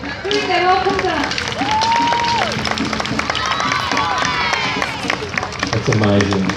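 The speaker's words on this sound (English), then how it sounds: "Big round of applause, folks." Crowd cheering and clapping along a flower carnival parade route, loud and sustained, with children shouting, whistles and a voice talking over the noise.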